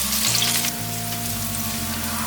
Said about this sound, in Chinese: 让红萝卜先煎